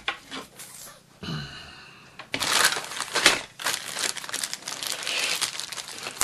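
Plastic baggie being opened while unboxing a TIE fighter model kit: crinkly rustling and crumpling in irregular bursts, close and fairly loud, with a brief quieter pause before busier handling resumes.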